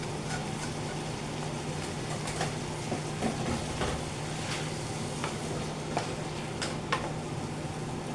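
Saltfish cooking with coconut milk and a little oil in a pot for a Jamaican dish, a steady close low sizzle and bubbling with occasional faint clicks and stirring taps, no talking.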